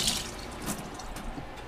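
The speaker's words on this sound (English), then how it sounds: "I'm gonna pour that hot water on it right now, so it should distribute evenly" Hot water pours onto flour for a beef stew, giving a soft, steady splashing hiss through the short stretch with no talking.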